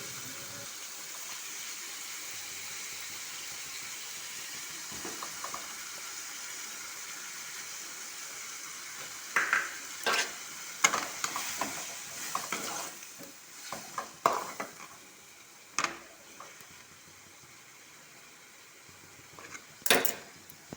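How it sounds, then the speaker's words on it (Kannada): Jaggery melts and bubbles into lemon pickle in a pan as it is stirred: a low steady hiss at first, then a run of sharp scraping strokes in the second half, with no talk. "ಈ ಬೆಲ್ಲ ಎಲ್ಲ ಚೆಂದಾಗಿ ಕರಗಬೇಕು ಸ್ವಲ್ಪ ಕುದಿಬೇಕು ತಿರ್ಬ್ಯಾಡ್ಕೋತ ರೀ"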